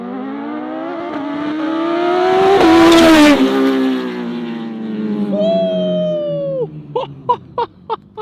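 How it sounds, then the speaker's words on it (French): Superbike engines from a BMW S1000RR and a Kawasaki H2 at a two-wheel show, a long loud rising howl peaking mid-clip, then a second engine climbing in pitch before a string of sharp revving blips near the end. "il y a Chris RS et son abonné qui vont faire des gros run sa mère avec leur S1000RR et la H2 de Chris"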